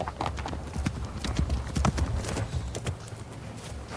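Hooves of a plump cob clip-clop steadily as it is ridden outdoors, a close, continuous rhythm of overlapping footfalls with faint horse snorts mixed in.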